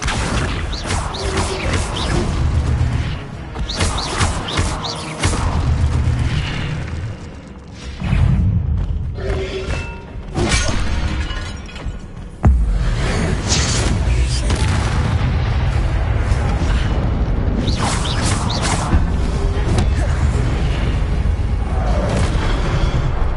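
Incendio fire spells cast again and again in Hogwarts Legacy, each landing as a loud booming burst of flame, layered thickly with constant game effects and music throughout.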